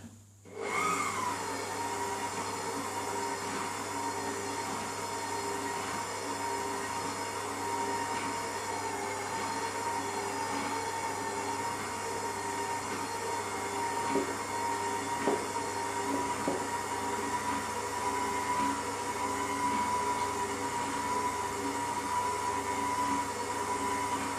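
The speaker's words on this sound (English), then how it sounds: "turn this onto number 1 and gently add it bit by bit, and it's going to mix it in for us" An electric mixer running steadily on its lowest speed, mixing pancake batter, a continuous mechanical whir that starts abruptly and holds an even level throughout, no talking.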